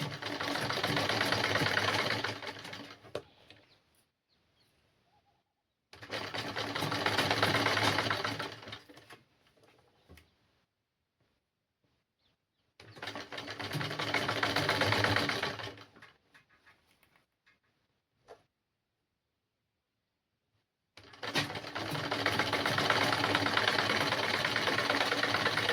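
Sewing machine stitching a blouse, running in four bursts of rapid mechanical whirring and needle patter, each lasting a few seconds, separated by quiet pauses and close to the microphone, with no speech.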